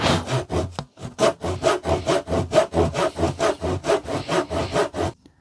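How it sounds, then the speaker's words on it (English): A handsaw cuts through a vinyl-covered MDF picture frame in a shed with about twenty brisk, evenly spaced rasping strokes. The strokes pause briefly near the start, and the sawing is close and loud, with no talk. "now I might try and cut them before I take the corner apart"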